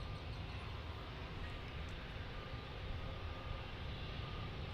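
An Airbus A321 airliner at DFW airport produces a steady, broad jet-engine roar that holds at an even level throughout, with no voices over it.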